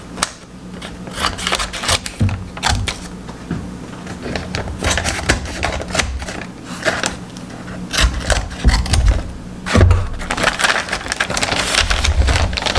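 Paper wrapping around a soap box is cut at the corners with scissors, making busy, close crackling and snipping with dense paper rustle throughout and sharp cuts standing out.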